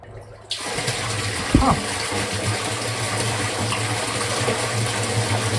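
Water suddenly gushes into a 500-year-old garden canal, starting as a loud steady rushing flow after a brief quiet moment. It keeps pouring evenly with a faint low hum beneath it.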